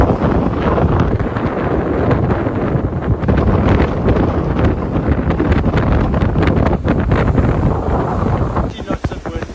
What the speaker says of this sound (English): We're sailing along, 17 knots of wind.